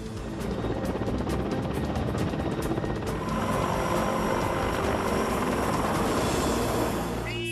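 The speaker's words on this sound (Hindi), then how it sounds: "Chinook helicopter Indo Tibet border पर तैनात।" A Chinook twin-rotor military helicopter flies near the Indo-Tibet border in Leh, its loud, steady rotor thump and turbine roar filling the scene continuously with no talk.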